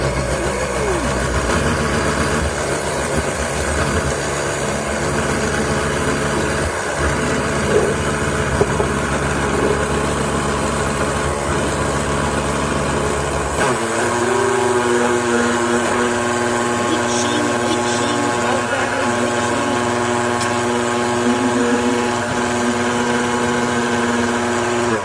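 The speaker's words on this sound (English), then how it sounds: "I will grind it. I have a kitchen grinder here." A kitchen grinder whirs loudly and continuously as it grinds wild garlic with salt, its motor tone changing pitch and settling into a steadier drone partway through.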